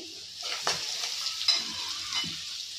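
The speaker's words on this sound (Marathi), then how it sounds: "स्वच्छ धुवून कट केलेला कोबी टाकत आहे" Washed, chopped cabbage sizzling in a hot pan with turmeric, a soft continuous frying hiss broken by a few scraping stirs and clatters.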